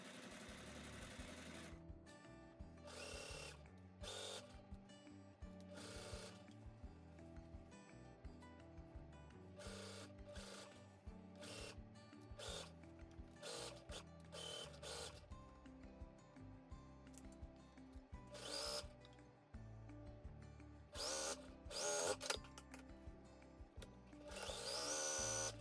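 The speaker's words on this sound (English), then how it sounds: "I'm stitching the crotch seam at a 1/2 inch seam allowance." A sewing machine stitches the crotch seam of linen pants in repeated bursts, fast whirring runs broken by short pauses and a few quick back-stitches, close and fairly quiet.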